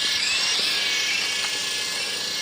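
A radio-controlled helicopter flies close by, its rotor producing a loud, steady high-pitched whir that stays continuous and unbroken throughout, with no talking.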